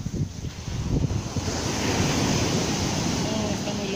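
Surf rolling in at Caleta beach in Acapulco on a cloudy day, a steady broadband wash with wind noise, close and fairly loud and continuous throughout, with faint voices underneath.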